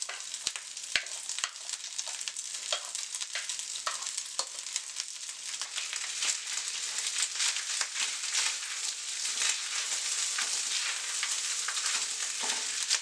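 Rice and beef fry steadily in a pan with a constant bright sizzle, punctuated by occasional clicks and scrapes of stirring, close and uninterrupted throughout.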